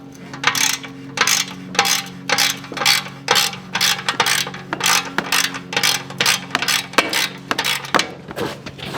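A hand ratchet works loose a 10 mm bolt on the exhaust of a 2019 Kawasaki ZX6R motorcycle, giving steady repeated bursts of metallic clicking, close and loud, with no talking.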